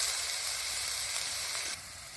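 Garlic paste hitting hot oil left from frying fish sizzles steadily and close, a bright hissing fry that drops a little in level near the end.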